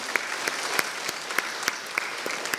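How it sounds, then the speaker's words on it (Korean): Congregation clapping together during a Friday church worship service, a rhythmic, evenly spaced beat of unified claps over a dense wash of applause, loud and close. "하나님께 영광의 박수 올리겠습니다."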